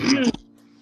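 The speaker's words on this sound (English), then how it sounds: "let me clear my throat." A brief, raspy throat clearing up close, lasting under half a second, followed by a faint low hum.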